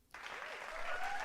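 Applause starts abruptly from near silence and carries on as a steady burst of group clapping at moderate loudness, with no voices over it.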